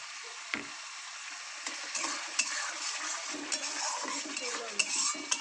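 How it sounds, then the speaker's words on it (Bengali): Egg curry masala with tomato sauce is being sautéed and stirred in a pan, giving a steady soft sizzle with scattered clinks and scrapes of a spatula against the metal throughout. "এবার ভালো করে কষাবো, তবে এতে কিন্তু জল পড়বে না"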